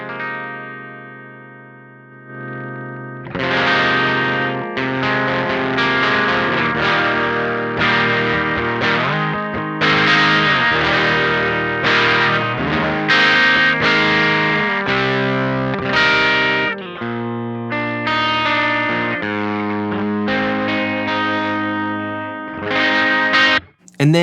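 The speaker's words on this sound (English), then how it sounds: "as we turn the drive control up, we're going to get more distortion and more distortion" Overdriven electric guitar through an O.C.E. Lineman overdrive pedal, drive control turned up, strums and held chords growing grittier and more distorted, played steadily and loud with no talking.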